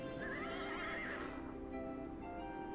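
A winged horse whinnies in the King's Quest II adventure game, a bright rising neigh with a tremulous tail that is loud and close, followed by a lower game tone and no talking.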